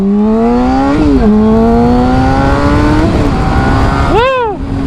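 Motorcycle engine pulls hard while riding, its pitch climbing steadily through a gear change around the first second, then a quick blip and sweep as the revs drop and rise again near the end, loud and close.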